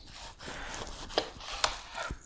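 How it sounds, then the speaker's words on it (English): A knife cuts a lemon into very thin slices on a cutting board, giving two sharp, close taps amid quieter scraping and rustling, with no talking. "First, let's prep this lemon to top our salmon. So we're going to do some really thin slices."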